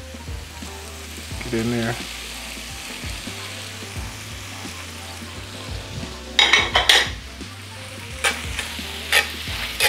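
Garlic-marinated butterflied shrimp sizzle steadily in a hot pan, with a few brief scraping stirs, clinks of utensils and a short spoken remark over the frying.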